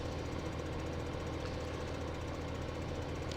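A video game tractor engine drones continuously with a steady, rumbling low mechanical hum and no breaks, like a heavy tractor motor running at constant speed.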